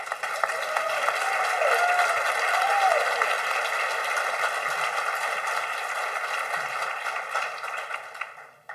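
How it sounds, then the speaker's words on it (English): An audience at a Charleston community Yom Hashoah gathering applauds Patrick, a sustained, even wash of clapping heard through a hall's hum, holding steady before fading near the end. "do you mind just standing up so we can give you a round of applause?"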